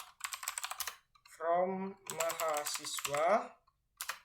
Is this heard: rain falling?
no